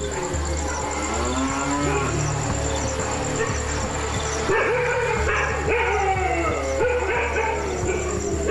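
Cattle moo repeatedly in a village in the Gir forest region, with long, drawn-out calls over a steady rural background and dogs barking intermittently nearby.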